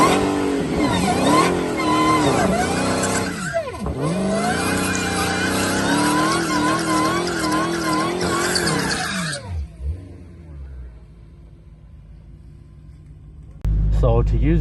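A Dodge Demon 170 roars through a drag racing pass, the engine revving hard through rising and falling gear sweeps up close, then dropping away into a low idle rumble, with a sudden loud burst at the end.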